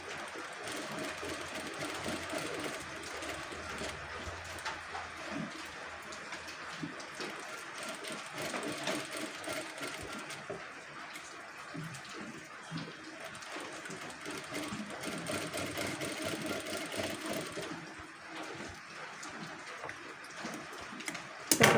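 A sewing machine stitches a pentagon-shaped neckline, a faint, steady mechanical whirr with a fine ticking texture running continuously, briefly pausing at corners.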